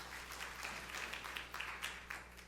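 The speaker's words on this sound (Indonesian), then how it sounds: "Tepuk tangan yang meriah untuk kemuliaan Tuhan." A church congregation applauds, a faint, distant patter of many hands clapping in loose, uneven bursts over a low steady hum.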